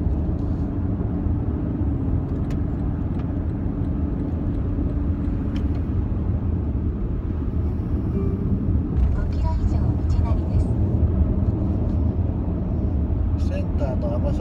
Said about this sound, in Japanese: 車音の感じとしてはガソリンモデルとそんな印象としては変わらないですね。